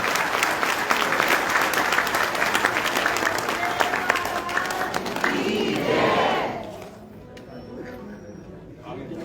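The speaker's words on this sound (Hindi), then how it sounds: "मैं चाहूंगा जोरदार ताली आप सबकी तरफ से करनी चाहिए।" An audience at a devotional satsang gives a guru loud, dense applause mixed with cheering shouts, sustained for about six seconds before dropping off to quieter room sound and a voice.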